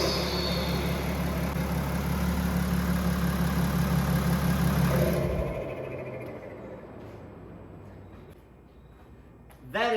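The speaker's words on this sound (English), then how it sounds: "Let's crank this thing up, see how good it sounds. You're supposed to hear a bunch of the turbo noise." A diesel BMW E70 X5d with a custom intake and muffler delete rumbles loudly at close range, its engine roar dropping off halfway through to a quieter idle, with a brief sharp sound at the very end.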